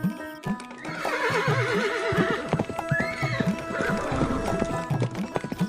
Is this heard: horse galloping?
yes